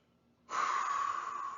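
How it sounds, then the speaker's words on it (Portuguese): One forced deep inhalation demonstrated during an anatomy lesson on breathing muscles: after a brief silence, a long, steady, loud airy intake of breath close to the mic. "Eu posso puxar muito mais ar aqui"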